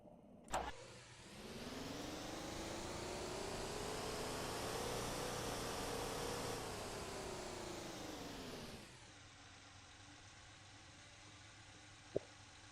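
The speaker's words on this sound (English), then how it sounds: "This V12 is so loud though." A V12 car engine in the video game Motor Town starts with a sharp click, then revs loudly and holds a rising, screaming drone for about eight seconds before dropping to a quieter idle, ending on a brief click.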